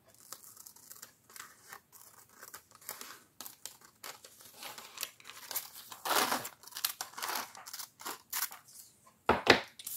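Scissors snipping paper for an art journal page: a run of short crisp cuts and rustles, irregular and close, with crinkling handling of the sheet and a louder paper crumple near the end, no speech.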